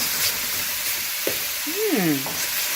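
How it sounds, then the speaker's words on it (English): Ginger tossed into a hot pan alongside beef, giving a loud, steady, close sizzle throughout, with a brief voiced sound and a whistly tonal sweep over it near the end. "Now we're gonna toss in the ginger"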